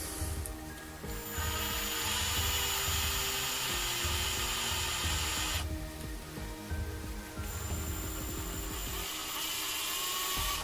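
Power drill spinning a Harbor Freight drill bit while checked for wobble, a continuous close whirring drone with a brief dip in the middle, no talk.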